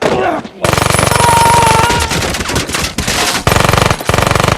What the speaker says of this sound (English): Deadpool tries to reason with them, but they open fire on him.